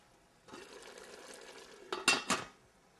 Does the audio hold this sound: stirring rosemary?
yes